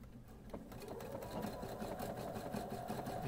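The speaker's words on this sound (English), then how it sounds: "I want to see what the sound is like doing a relatively fast stitch" Sewing machine running a relatively fast stitch, a steady rapid mechanical whir with dense repeating needle clicks, close and even throughout.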